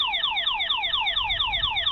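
Emergency alarm tone from a Tapo ColorPro security camera, a loud electronic siren with fast, repeated descending sweeps like a car alarm, steady and close, with no other sound.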